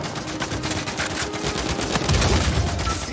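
Automatic weapons in an Uncharted 4 multiplayer firefight give off a continuous, loud stream of rapid gunfire. Shots overlap densely for several seconds and swell slightly toward the end.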